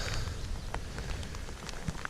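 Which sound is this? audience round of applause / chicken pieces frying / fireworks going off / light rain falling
light rain falling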